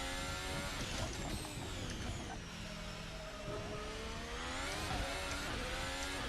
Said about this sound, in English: This car sounds fantastic though